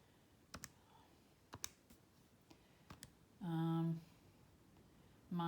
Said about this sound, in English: we're going to type in this 2x cubed